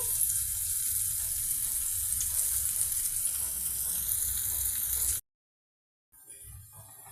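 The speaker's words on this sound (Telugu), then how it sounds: "ఆయిల్తో పచ్చిపప్పు, కర్రీ లీవ్స్, ఆనియన్ పీసెస్, పచ్చిమిర్చి ఈ విధంగా ఫ్రై అవుతున్నాయండి." Chana dal, curry leaves, onion pieces and green chilli fry in oil for ragi atta upma, a dense, steady sizzle that cuts out abruptly for about a second before resuming.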